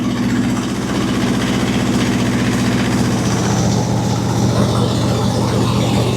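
C3 Corvette engine running after a new carburetor was fitted, very loud with an exhaust leak, a steady, throbbing low idle rumble close up throughout.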